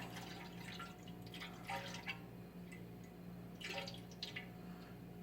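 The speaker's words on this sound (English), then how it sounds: "I'm trying not to slosh this very much, which is why it's taken so long to pour 4 gallons into here" Apple cider is poured slowly into a fermenting vessel, making quiet, faint trickles and drips over a steady low hum, with several brief splashy bursts.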